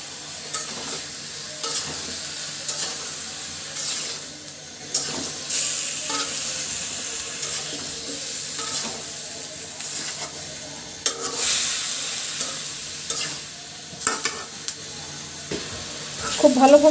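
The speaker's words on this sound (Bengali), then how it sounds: "মশলাটা খুব ভালোভাবে লাউয়ের সঙ্গে মিশিয়ে নিব" A spoon scrapes and stirs chopped bottle gourd through spice paste in a hot pan, with soft sizzling underneath and intermittent clanks and scrapes in an irregular rhythm, close by.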